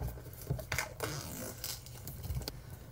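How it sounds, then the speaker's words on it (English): Scissors cut through the packaging of a MacBook Pro box, giving irregular close snips, scratches and tearing rustles at moderate loudness, with no talking. "I'm just gonna go for it with the scissors."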